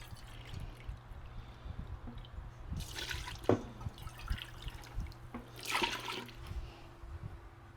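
Two cups of warm water pour into a bowl for homemade bread dough, two brief splashing bursts separated by quiet, with faint drips and clinks around them.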